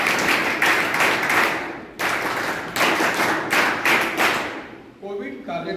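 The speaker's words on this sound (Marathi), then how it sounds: "जोरदार टाळ्या त्यांच्या" A crowd at a public speech claps loudly in several bursts of applause that swell and fade, with a voice starting to speak at the end.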